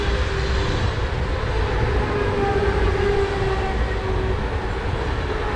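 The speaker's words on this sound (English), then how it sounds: "I might have been on that train once." A train passes on the railway near Eisenach, Germany, a loud, continuous rumbling roar with a steady metallic hum, close by and unbroken for several seconds, with no voices.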